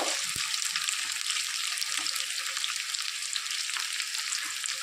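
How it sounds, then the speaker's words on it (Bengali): Onion fries in hot oil on its way to a reddish colour, giving a continuous, bright, even sizzle at moderate volume with no voices. "পেঁয়াজটা লাল লাল করে ভেজে নেব"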